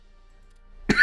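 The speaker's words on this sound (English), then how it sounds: "That cough is really bad." A single harsh cough bursts out close to the microphone after a second of near silence, in the middle of a Hearts of Iron 3 gaming session.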